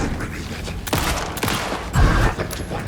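Gunfire in the survival horror game Alan Wake II, a few dense blasts and a burst of shots close up over a tense in-game background, with no speech in the moment.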